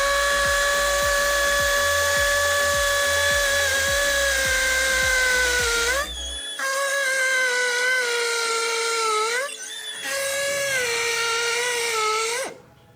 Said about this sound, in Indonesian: Berikutnya kita akan menggunakan mata bor ukuran 10 mm di mode hammer ya. Saya akan mengebor cor-coran semen.